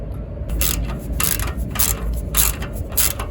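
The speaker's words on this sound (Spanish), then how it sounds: "ya solo tenemos que poner el tornillito aquí, bien puesto, no lo trasrosquemos, no lo metamos mal" A small screw is tightened while a car shock absorber is fitted, giving a series of about five close, rhythmic ratcheting bursts with metallic clicks, alone and fairly loud.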